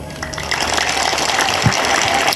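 A church congregation claps together, a dense, continuous wash of many hands that holds steady and fairly loud throughout, with no one speaking over it.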